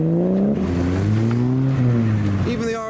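A Toyota Chaser JZX90 passes at a large JDM car show, its engine a loud, steady drone that shifts pitch as it goes by, with a commentator talking over it throughout.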